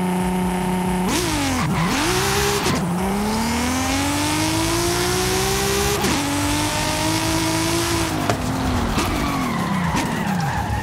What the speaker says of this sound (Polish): Jedyne co musimy zrobić, to puścić hamulec ręczny i samochód wystartuje.